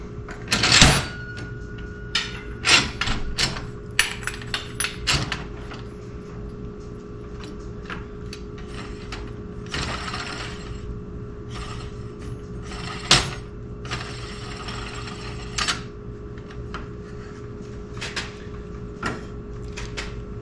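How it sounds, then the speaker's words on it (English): A Build Co Tools guillotine tube notcher cuts round tube, giving a run of sharp metallic clanks and clicks at irregular intervals over a steady low mechanical hum, close and fairly loud, with no talking. "2 pieces of round in a tube notcher."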